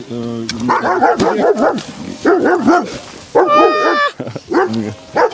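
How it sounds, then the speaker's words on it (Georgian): A dog agitated by an overhead drone in Meskheti, Georgia barks and yelps loudly and close up in rapid, repeated bursts, with whining between the barks. "ძაღლი ძალიან ნერვიულობს დრონის ამბავს."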